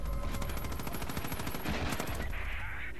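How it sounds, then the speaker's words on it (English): A plane's machine guns in Far Cry 5 fire a loud, rapid, unbroken burst of evenly spaced shots that rattles on for the full three seconds, with no talking. "It's got both machine guns and rocket launchers."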